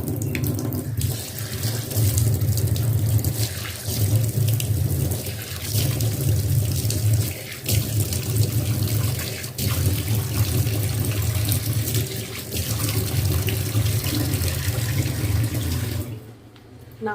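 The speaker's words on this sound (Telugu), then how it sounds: "ఇప్పుడు మనం దీన్ని వాష్ చేసేసుకుందాము." Water runs from a tap into a sink with steady splashing and gurgling while a face is washed, close and fairly loud, continuing with small changes in flow before stopping near the end.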